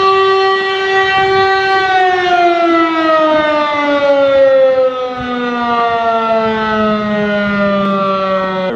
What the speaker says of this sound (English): Around midday on Saturdays in every village in Austria, they test their sirens.